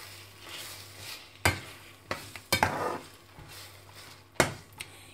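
Ras halwa with raisins and almonds being stirred in a pan, a quiet run of scattered scrapes and knocks from the spoon over a faint background, with several sharper clacks.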